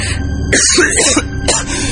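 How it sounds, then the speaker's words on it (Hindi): Loud, close coughing from a man in a Hindi horror audio drama, two harsh bursts about a second apart over a steady low background bed, with no speech. "तभी हंसते हंसते वो खांसने लगा"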